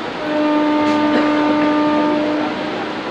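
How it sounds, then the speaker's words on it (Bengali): A Howrah-line local train on a Puri-to-Howrah journey sounds a long, steady horn blast, loud and close over the rumble of the train, which then fades slightly as the horn stops; no one talks. "এই দেখুন লোকাল ট্রেন"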